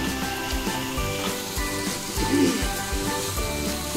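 Water poured into a pan of fried spice masala for a fish-egg curry sets off loud sizzling and crackling that surges midway, then settles into steady bubbling frying.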